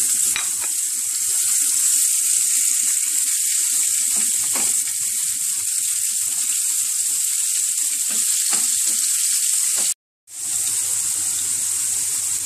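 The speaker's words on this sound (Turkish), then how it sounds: "kıymamızı kavurun." Minced meat frying in a few spoonfuls of oil, a loud, steady hiss with occasional stirring scrapes, briefly cut to silence before the sizzle resumes more quietly.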